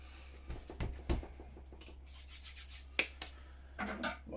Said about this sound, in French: je viens bien nettoyer la cuve hein, pour ramasser évidemment le maximum de pâte